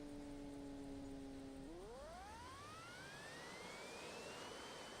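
A simulated jet engine in the RealFlight Evolution flight game holds a steady whine with a constant roar underneath, then the pitch climbs smoothly as power is pushed up. No one talks.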